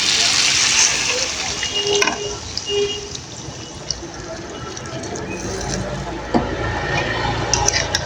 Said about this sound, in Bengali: এখন আমি দিয়ে দেব ঝোলের জন্য পরিমাণ মতো পানি।